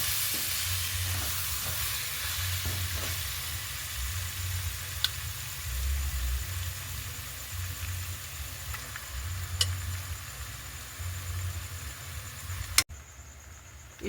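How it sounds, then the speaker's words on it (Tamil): A spoon stirs pasta with masala in a frying pan, a continuous scraping and sizzling at close range with occasional sharp clinks against the pan, no voices present. "இதோட சேர்த்து ஒரு 10 நிமிஷம் அளவு நல்லா இதோட சேர்றதுக்கு கிண்டி விட போகிறோம்"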